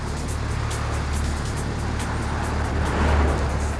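Steady roadside traffic wash with vehicles passing at about 40 mph, a continuous loud rumble and hiss close by that swells slightly near the end, no voices.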